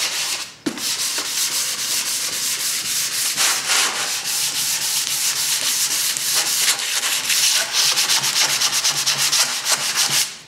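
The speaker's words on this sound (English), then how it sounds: "all we're doing is scuffing this up so the primer will adhere to it." Sandpaper scuffs a surface before priming, a continuous close rasping rub with steady back-and-forth strokes and brief pauses, heard alone.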